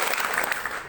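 Audience clapping at a Maulid Nabi Muhammad commemoration gathering, a short burst of dense applause filling the whole moment without talk.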